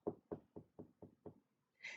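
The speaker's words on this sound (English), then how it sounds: "Doc knocked on the door early the next morning." Six evenly spaced knocks on a door ring out crisp and close, each a sharp rap with a short decay, followed by a brief hiss.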